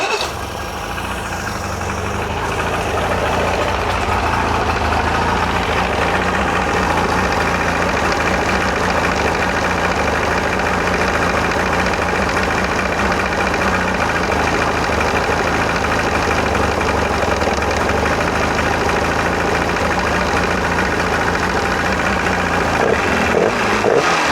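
The outboard engine on a 17ft Nitro boat idles steadily after its idle screws were adjusted, a loud, continuous mid-pitched running drone that holds level throughout with no talk over it.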